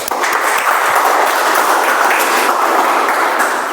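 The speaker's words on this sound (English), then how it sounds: "Claps, please." Audience at a Toastmasters club meeting applauding with dense, steady clapping that stays loud and continuous throughout, close and without talk.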